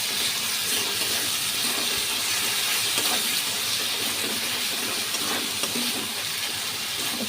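Dried loitta fish paste with green chilli fries in a pan, giving a dense, continuous hissing sizzle that stays steady and close for several seconds without talk.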